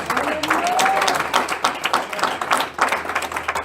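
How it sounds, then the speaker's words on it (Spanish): Applause from a church congregation during a Spanish-language service, a lively patter of many hands rising and falling in uneven waves, with a voice briefly audible near the start. "Usted le da un aplauso al Señor."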